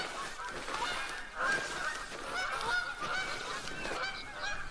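A flock of Canada geese in a video game honking continuously, many overlapping calls close by and fairly loud, with no talking.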